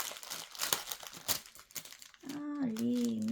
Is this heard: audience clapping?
no